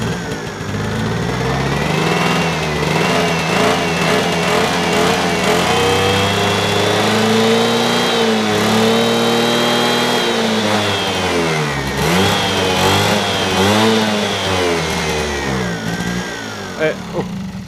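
An old Gilera two-stroke scooter engine, restarted after more than ten years, revs loudly and close with hand throttle, rising and falling in pitch over a continuous drone.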